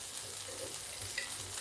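Potatoes frying in a pan with a soft, steady sizzle and light crackle, close and fairly quiet, with no talking.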